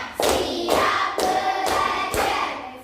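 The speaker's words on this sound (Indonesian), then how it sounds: "tepuk lima." Five sharp hand claps in an even, counted rhythm, led in a morning class greeting, each one crisp and close with a short decay and no talk in between.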